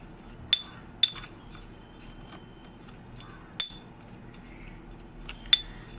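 A spoon mixes coffee and sugar for a face scrub in a bowl. Soft scraping runs under a few sharp, bright clinks against the bowl, spread out and quiet, with no voices.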